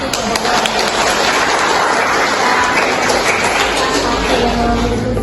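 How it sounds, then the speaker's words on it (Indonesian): Classroom audience claps for a student group after their presentation, a dense steady patter of many hands filling the room at close range, loud and unbroken throughout with some voices mixed in. "Tepuk tangan dulu untuk kelompok 1"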